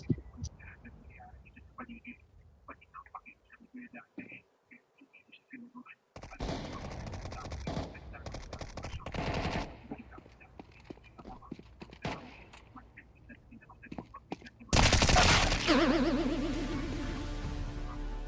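Gunfire from a shooting video game crackles in rapid bursts and single shots, with quiet stretches between them and a loud blast near the end, while players talk and whisper over the action.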